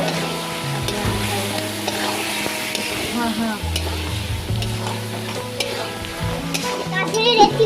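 Chicken with red chili powder and cumin powder being stirred and sautéed in a pan, a steady sizzle with scraping stirs throughout, loud and close, building slightly at the end.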